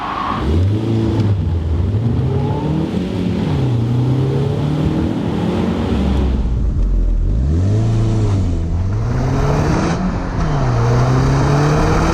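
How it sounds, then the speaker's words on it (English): An Audi TT quattro accelerates hard out of a corner, its engine note climbing repeatedly through the gears with brief dips at each shift, loud and sustained from inside the car. "Should we test the quattro-ness? Pulling out of this corner."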